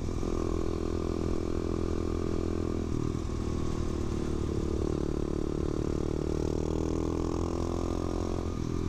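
A tiny 125cc mini motard motorcycle runs with a steady, buzzing mid-pitched engine drone and slight rises in revs, close and continuous with no talking.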